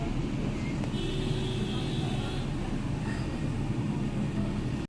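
Busy Mumbai market street traffic, a constant loud low rumble of engines and crowd noise with a brief sustained horn-like tone partway through.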